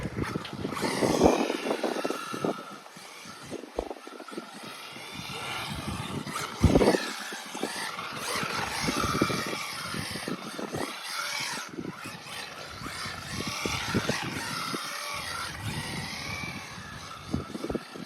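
A LOSI NASCAR RC car driving outdoors, its electric motor whining and rising and falling in pitch as it speeds past, with wind buffeting the microphone.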